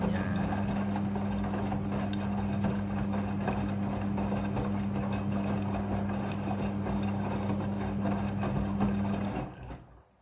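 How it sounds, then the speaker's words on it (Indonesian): Midea front-loading washing machine filling itself with water for a rinse cycle, a steady low hum with a constant rushing wash of water that runs evenly, then cuts off abruptly near the end. "Air akan mengisi secara otomatis."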